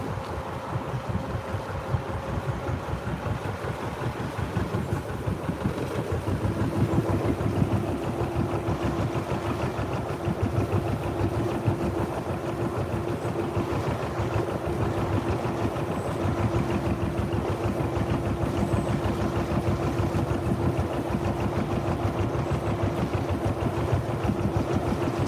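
A narrowboat's diesel engine runs steadily for a long stretch, a low continuous throbbing drone with a faint steady tone above it and some wind noise, with no talking.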